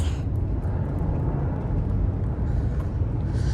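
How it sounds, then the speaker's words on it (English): Heavy highway traffic rumbles overhead on Toronto's Highway 401, heard from below in North York as a steady, loud low-frequency drone with no talking. "You can hear the rumbling of traffic above us on the 401"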